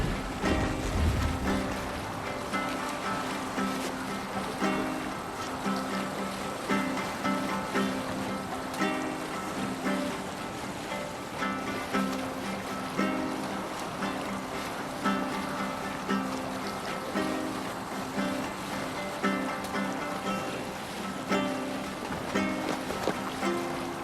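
Sailing ship moving over waves in Assassin's Creed Valhalla, steady rushing water and wind under continuous game music throughout.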